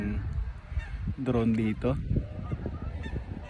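A flock of geese honks at Lake Winnipeg, Canada, loud nasal calls overlapping in a dense chorus against steady wind, with someone talking over the birds.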